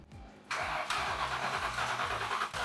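A troubled Mustang GT cranks on its starter in neutral with the handbrake set, a steady loud whirring churn with rhythmic pulsing that begins abruptly after a quiet lead-in and continues without catching.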